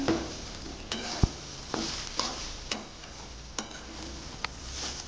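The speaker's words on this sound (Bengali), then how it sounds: "চালটা একদম পুরো সাদা হয়ে যাবে, এরকম করে ভেজে নিয়েছি আমি" Rice fries dry in a pan while being stirred, giving a quiet, faint sizzle. Sharp spoon or spatula scrapes cut through it about every half second, in an even, repeated rhythm.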